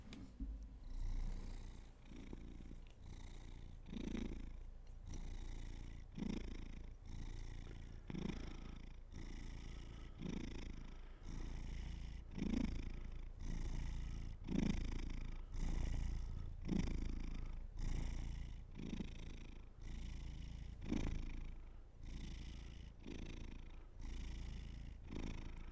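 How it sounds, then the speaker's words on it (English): A white cat purrs loudly and close up, a steady rhythmic rumble of pulsing breaths that repeats for the whole stretch with no voices over it. "White Cat has turned on his jet engine"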